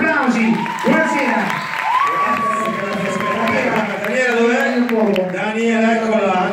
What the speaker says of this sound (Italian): Applausi, buonasera.